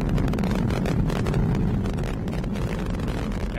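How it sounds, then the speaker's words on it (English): Atlas V rocket carrying the TDRS-M satellite in flight, a steady, loud broadband roar and rumble with a wind-buffeted texture, continuous throughout with no voices. "The Atlas rocket carrying TDRS-M reached supersonic speed at 1 minute and 20 seconds into flight."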